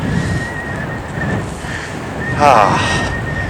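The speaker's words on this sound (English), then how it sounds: "Hopefully you can hear me, because it is really windy and I'm relying on this microphone." Gusty coastal wind on a flat beach at Greatstone, Kent buffets the microphone in low, rumbling bursts, with a brief rise in the rushing noise partway through.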